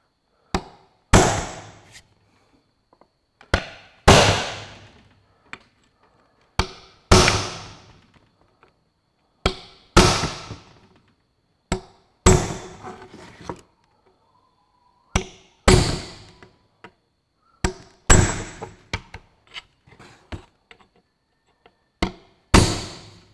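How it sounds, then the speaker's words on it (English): Sharp metallic strikes from a tapered punch being tapped against the screws of a Ferguson TE20 tractor steering box. The blows are loud and close, land singly or in quick pairs with short pauses between, and no one talks. "grab a tapered punch, and on each screw, just give them a jar."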